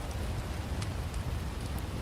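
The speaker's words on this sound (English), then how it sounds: "distant wind through the trees, the rain upon the shingles" Steady rain pattering on roof shingles, a dense continuous hiss with scattered drops, with no voices present.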